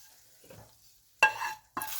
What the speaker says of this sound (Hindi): अब जाएगा हमारी दाल में तड़का।